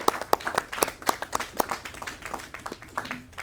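A small audience claps for a guest speaker at a local meeting on eminent domain, a brisk patter of scattered hand claps that thins toward the end, fairly close and without talk.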